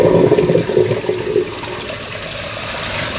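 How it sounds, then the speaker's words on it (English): Cold tap water runs steadily for a rinse during a wet shave with peppermint latte soap, louder and splashier for the first second and a half, then settling into a quieter, even stream. "just gonna do the old coldy cold rinse"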